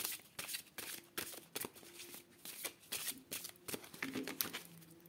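Tarot cards being shuffled for a daily card reading, a run of crisp riffling bursts and soft flutters repeating in quick irregular rhythm, close and fairly quiet with no talk.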